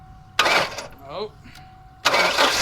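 A 1994 Ford Mustang engine starts up, with two loud broadband bursts of cranking and roaring separated by a short gap in which a voice exclaims briefly.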